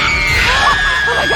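A sustained, piercing woman's scream from the horror film Scream 6, loud and strained, holding a high shrill pitch for the whole stretch with a wavering edge near the end.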